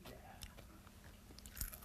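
A salty pretzel-like snack is bitten and crunched close by, a few quiet crisp crunches and chewing sounds scattered through a faint, hushed room, with a sharper crunch near the end.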